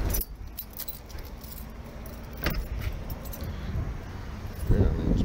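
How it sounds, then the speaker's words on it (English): Car keys jangle in a series of light metallic clinks by a parked car at a 7-Eleven gas station, with soft ambient noise and a louder rustle near the end. "oh, I'm gonna leave my keys in there."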